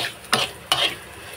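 Small onions and cumin fry in a pan for a bitter gourd curry, with two short bursts of stirring scrapes over a faint, steady sizzle.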